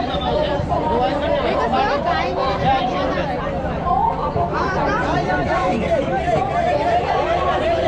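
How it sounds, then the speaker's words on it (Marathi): Dense crowd chatter fills the Aagri Koli Seafood Festival grounds, a steady close babble of many overlapping voices among the stalls, continuous and fairly loud throughout. "गर्दी बघू शकतो आजपर्यंत मी कुठल्याच महोत्सवाला अशी गर्दी नाही बघितली"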